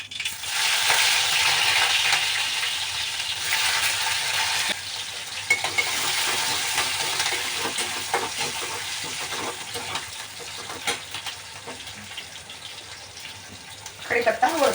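Garlic, mustard seeds and cumin sizzle in hot oil in a pan on a lowered gas flame, a continuous bright frying hiss with occasional stirring scrapes, while someone talks over it.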